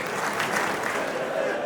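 An audience at a Hindi kavi sammelan poetry gathering in Takhatpur, Bilaspur claps for poet Krishna Kumar Sahu, a dense, steady wash of applause filling the hall without pause.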